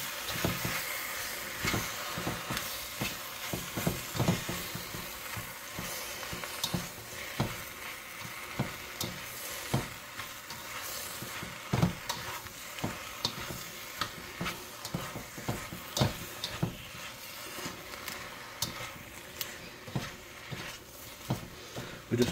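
Bok choy leaves sizzle in a hot stir-fry pan, a continuous crackling hiss broken by frequent sharp pops and the clatter of stirring, with no talking.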